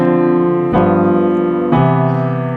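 Three sustained three-note chords of a ii–V–I progression ring out one after another, each struck cleanly and held, played loud and close with no voices.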